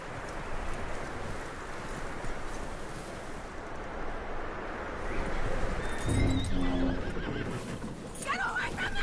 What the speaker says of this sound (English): Get that horse hitched